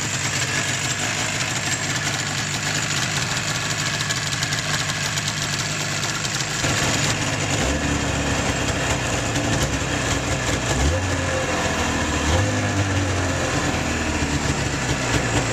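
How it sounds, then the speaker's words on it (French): A snowmobile engine started outdoors and left idling to warm up, a loud continuous mechanical drone with a shift in tone partway through and steady rough rumble after, with no talking. "on va sortir la motoneige à l'extérieur pour la démarrer et la monter en température"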